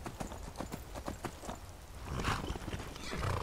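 Horse hooves in Skyrim clip-clop in a quick trotting rhythm as the horse turns back, followed by a brief neigh and rising ambient rumble, with no talking.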